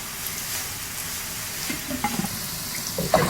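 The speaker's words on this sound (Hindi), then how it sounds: "और इधर हमारे करेले फ्राई हो रहे हैं।" Bitter gourd slices fry in a pan of hot oil, a soft continuous sizzle with a few light clinks and pops of stirring toward the end.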